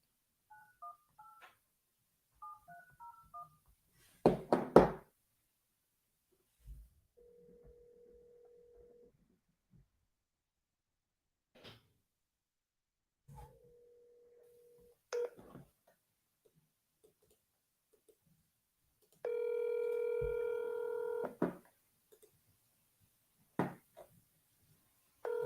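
Phone dialing for a cold call to a property seller: short clusters of dialing tones, soft clicks, a couple of steady ring tones, and a louder burst of tones near the end, all on a quiet line.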